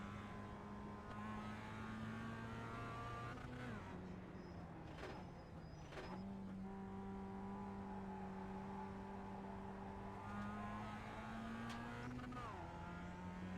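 A Mazda race car engine at Daytona in a racing video game: a steady droning whine that shifts pitch with gear changes, running continuously at a moderate level with no talk.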